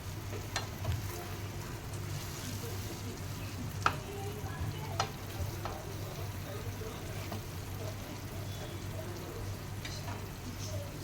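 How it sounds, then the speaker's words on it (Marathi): Paneer is stirred in a pan to coat it in spicy masala, with a steady sizzle of frying and occasional scraping clinks of the spoon, close up and continuous. "पनीर आपल्याला व्यवस्थित या मसाल्यात कोट करून घ्यायचे तसे."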